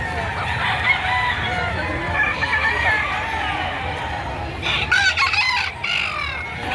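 An eight-month-old Gilmore Hatch gamecock rooster clucks among other fowl at a chicken market in Batangas, with faint crowing and calls under steady background chatter and nearby voices.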